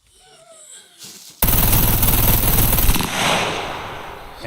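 A strength-3 advanced rifle in the video game SCUM fires a loud, rapid automatic burst lasting about a second and a half, preceded by quieter game ambience and followed by a ringing tail.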